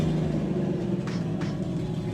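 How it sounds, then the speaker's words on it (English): A Nissan 240SX set up for offroad use, with a wideband O2 sensor problem, runs at a steady idle, a close, low droning rumble with a couple of faint higher clicks, and no voices. "we're gonna start the car, see what she's doing"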